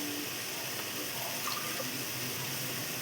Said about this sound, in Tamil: இதில் 2 டம்ளர் தண்ணி ஊற்றிருக்கேன்.